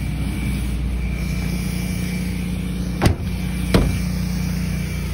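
A pickup truck engine runs steadily at idle during snow removal work, a constant low hum filling the clip with two brief sharp knocks or clicks near the end.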